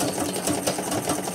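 A treadle sewing machine runs steadily, its needle mechanism chattering in a fast, even rhythm at close range with no talking.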